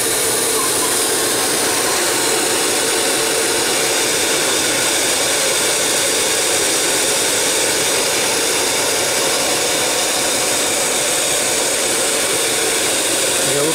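A steady, broadband whooshing hum of a 12 V DC, 3.5 A air cooler running continuously, loud and close, with no pauses.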